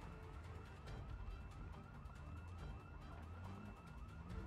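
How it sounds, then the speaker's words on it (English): A wailing siren-like alarm sounds in the zombie survival game Project Zomboid, rising and falling in steady repeating sweeps, faint and distant under low background rumble. "another alarm going off"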